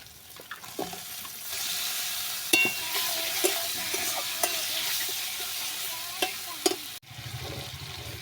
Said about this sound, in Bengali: দিয়ে আমি ম্যারিনেট করা মাংসটা আমি দিয়ে দিলাম